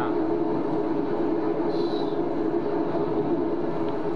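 A tram in Grand Theft Auto V rolls past with a steady loud rumble and hum that holds evenly throughout, with a faint high squeal partway through and no talk.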